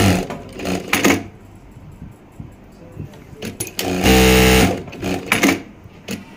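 A Jack A5E industrial sewing machine gives short, close bursts of stitching chatter, then one loud sustained whir of about half a second as the thread trimmer cuts, with someone talking between the bursts.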